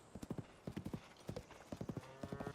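A horse in Zelda: Tears of the Kingdom clip-clops in quick rhythmic bursts of hoofbeats on the ground, joined by a brief whinny, fairly faint and without speech.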